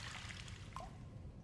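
Water trickles faintly back into place in the House of Da Vinci 3 puzzle game, a soft, steady dribble with a brief drip near the middle.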